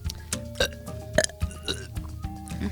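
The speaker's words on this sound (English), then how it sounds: "Ignore our unison burp and slurp session." Several short burps and slurping sounds from a pair of people, close and fairly quiet, arriving in a loose irregular series with no talking.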